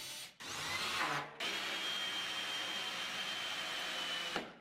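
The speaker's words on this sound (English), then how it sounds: "The Drive 90 Plus makes drilling into tight, confined spaces super simple and easy." A drill running through a Drive 90 Plus right-angle attachment in a woodworking setting, a steady whirring motor with two short stops and restarts, close and alone.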